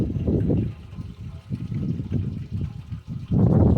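Pump-fed water splashes and trickles in a backyard pond, loud and close, with uneven bursts of flow and a heavier gush at the end.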